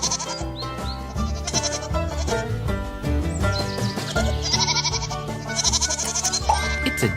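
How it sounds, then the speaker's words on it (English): A goat bleats repeatedly over a backdrop of music, the wavering calls loud and close, on a farm-animals children's track. "It's a goat."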